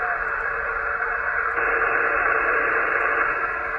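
A Yaesu FT-891 HF transceiver tuned to 14258 kHz on a beach gives a steady hiss and murmur of band noise, with a faint signal buried in it and a slight shift in level midway.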